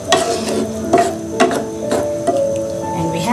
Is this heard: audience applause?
no